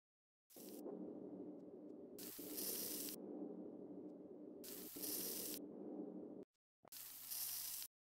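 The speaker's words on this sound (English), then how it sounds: "Sizzle, sizzle, make a kebab." Kebab cooking in the Amazing Cultivation Simulator game, a steady frying sizzle in four long bursts separated by short pauses, with a constant low hum underneath.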